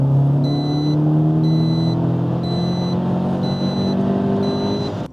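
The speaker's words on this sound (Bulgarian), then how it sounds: "И когато настъпите педала отдолу, ви обещавам, че всяко едно от тях се усеща." A modified Audi S3 with a 2-litre turbocharged four-cylinder engine tuned to about 390 hp revs steadily, its droning engine note rising slowly in pitch. A faint repeating electronic beep sounds over the engine, which stays loud throughout.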